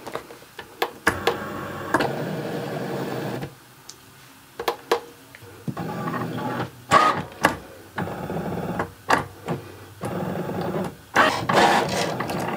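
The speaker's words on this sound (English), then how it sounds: "So let's head to our Maker 3 and cut the sticker sheet." A Cricut Maker 3 cutting machine cuts a sticker sheet with intermittent whirring carriage moves and sharp clicks and ticks, in uneven bursts at close range.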